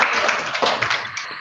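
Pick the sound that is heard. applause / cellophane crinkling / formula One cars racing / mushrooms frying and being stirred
applause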